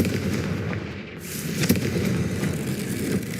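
A Confringo explosive spell goes off in the Hogwarts Legacy video game: a dense, loud, sustained blast-like roar with a sharp crack about midway, alone without voices.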